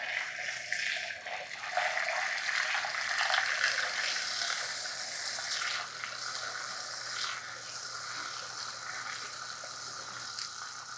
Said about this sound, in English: So I'm just gonna submerge it right in and start blending.